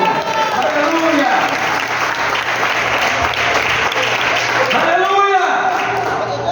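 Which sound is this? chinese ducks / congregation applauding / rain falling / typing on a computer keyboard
congregation applauding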